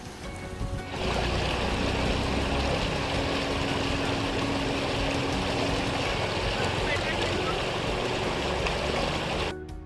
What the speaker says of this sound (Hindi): हमें वो पानी की आवाज़ का जो सोर्स था वो जल्द ही देखने मिला